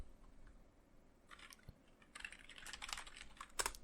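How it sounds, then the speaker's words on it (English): Soft keyboard typing, a scattered run of close clicks and taps that grows busier toward the end, with no talking. "If I could type it in correctly"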